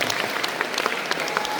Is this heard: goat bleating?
no